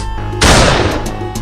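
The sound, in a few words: gunshots fired at snakes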